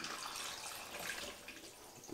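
A brine of cold water, dissolved salt and brown sugar pours steadily into a container for a Weber kettle rotisserie chicken, a faint continuous splashing stream with no talk.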